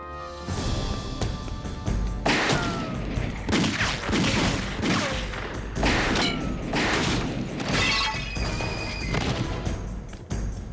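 Gunfire erupts in a police drama scene as a dense, sustained fusillade of sharp shots and booming impacts. It is loud and close, with overlapping bursts over about ten seconds.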